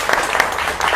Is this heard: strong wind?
no